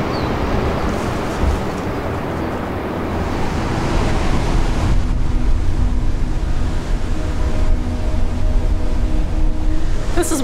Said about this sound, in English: This is one wild beach, even by New Zealand standards.